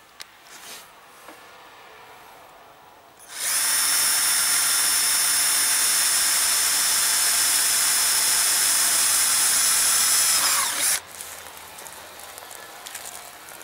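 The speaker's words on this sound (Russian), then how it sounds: "То есть вот у нас вода течет." Water pouring steadily through a freshly drilled hole in a bucket, a loud continuous hiss that starts abruptly, holds for about seven seconds and then cuts off, with quieter handling sounds before and after.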